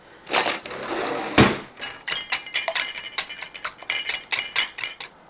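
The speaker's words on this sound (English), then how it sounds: "Now we're going to use 2 eggs. I'm going to break these. I need to whisk these up a little bit." Two eggs are cracked and whisked in a bowl for a Southern Coca-Cola cake: a couple of sharp cracks, then a quick series of rhythmic clinking taps from the whisk, close and moderately loud.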